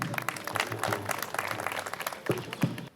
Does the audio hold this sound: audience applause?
yes